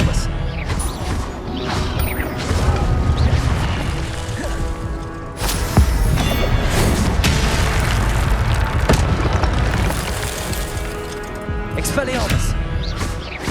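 Expelliarmus spell effect from the Hogwarts Legacy game on PS5, a sequence of loud booming, crashing magical impacts amid ongoing combat effects, with a voice casting spells over it.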